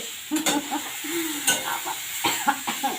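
Boiled vegetables stir-fried in a pan with five-spice seeds, sizzling under brisk, irregular scraping and clanking of a spatula against metal, close and moderately loud.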